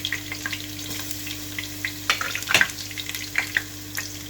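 Steady sizzling of garlic and ginger paste frying in a pan, with occasional clinks and scrapes of stirring over a low background hum.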